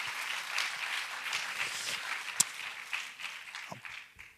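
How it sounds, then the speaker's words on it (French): Applause from the audience at a web festival, a moderately loud wash of clapping from many hands that keeps going with a single sharp clap near the middle, then thins out toward the end. "Vous pouvez vous applaudir"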